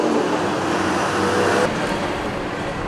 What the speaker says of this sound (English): that was a bus